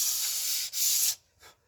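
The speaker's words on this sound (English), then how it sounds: "I use a sanding block." Wooden sanding block rubbed over rawhide backing on a bow, two close dry scraping strokes followed by a short faint third pass.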